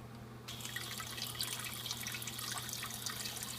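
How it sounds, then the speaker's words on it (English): A Luxe Bidet Neo 180 nozzle sprays water to clean itself, a steady hissing spray that starts abruptly and runs continuously at moderate level with faint dripping, no voices. "So you can kind of see the water is just being sprayed back there and it's cleaning itself."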